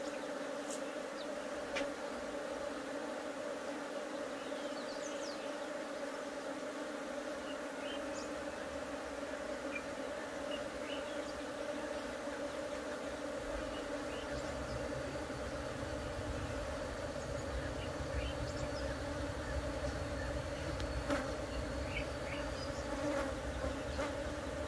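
Honey bees hum steadily around an open beehive frame during hive splitting at an apiary, a continuous close buzz with occasional individual bees flitting nearer, no talking.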